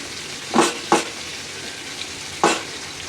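Teasel gourd cooks in a kadai filled to the brim, a low steady sizzle underneath while a spatula scrapes and stirs in three short, sharp strokes, two close together and one after a pause.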